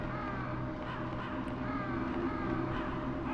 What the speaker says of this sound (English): damn crows again.